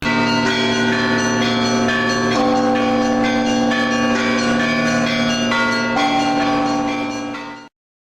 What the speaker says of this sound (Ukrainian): І зараз перед вами церковні дзвони.